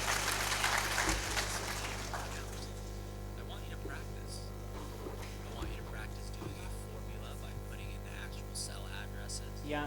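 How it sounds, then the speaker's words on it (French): Applause from a panel-session audience for the panelists, a broad wash of clapping at the start that fades within a couple of seconds, leaving hall hum and talking. "Merci encore et des applaudissements encore pour nos panélistes."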